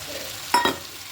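Green peas go into hot oil and spice paste for a vegetarian potato curry, letting out one short, sharp double burst of sizzling close by before the pan settles back to a quiet simmer.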